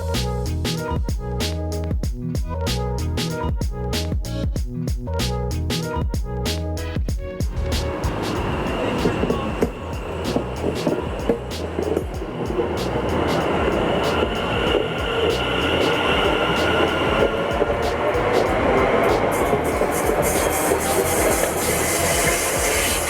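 South Western Railway class 701 electric train running toward Vauxhall, heard from on board: a steady loud rumble and rolling wheel noise with rhythmic clicks over rail joints early on, then a smoother sustained roar.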